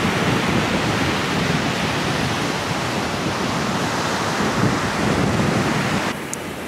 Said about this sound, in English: The wind is trying to kill us.